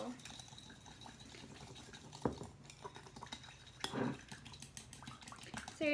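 Mongolian beef steak strips stirred in a pan with chopsticks, giving light clicks, taps and a soft sizzling patter, with a couple of louder clatters against the pan.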